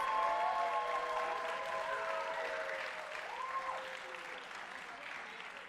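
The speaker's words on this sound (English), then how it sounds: "let's give her a big round of applause" Steady crowd applause fills the room at a fairly loud level, with a few tonal notes sliding over it before the clapping thins slightly toward the end.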